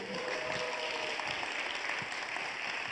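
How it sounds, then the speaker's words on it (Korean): A church congregation at a Sunday service clapping together, a steady, even wash of applause heard from a distance at a fairly low level. "큰 박수 한번 부탁드립니다"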